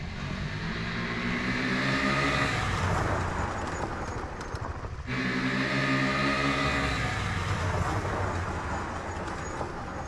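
A KTM 390 Adventure motorcycle with ABS runs on a rough gravel road, engine rising in a loud revving accelerating roar, cutting off abruptly midway, then building again with crunching tire noise.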